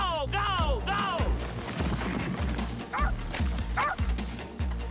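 A detection dog tracking feral cats in the Kimberley gives a rapid run of excited yipping barks and whines, loud and close, over a low rumbling background.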